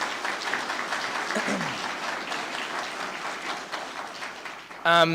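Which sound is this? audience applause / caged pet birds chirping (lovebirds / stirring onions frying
audience applause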